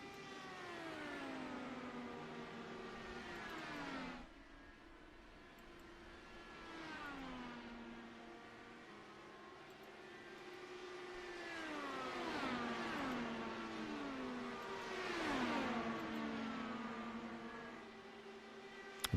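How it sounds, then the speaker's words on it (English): Race cars lapping Indianapolis Motor Speedway in a racing video game, engines whining and rising in pitch as several cars sweep past in waves, some Doppler-like pitch drops, with a steady drone between passes. "Drivers continue to make their way around the track here tonight at Indianapolis Motor Speedway"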